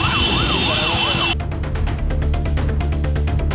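An ambulance siren wails while the vehicle sits stuck in heavy road traffic congestion, the tone sweeping up and down before switching to a faster pulsing pattern, loud and close over a steady rumble of engines.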